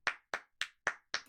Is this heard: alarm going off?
no